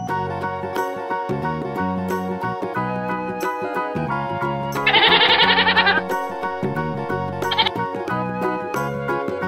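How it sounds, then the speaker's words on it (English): A goat lets out one loud, wavering bleat lasting about a second, over a cheerful children's music track that plays throughout. "Goat."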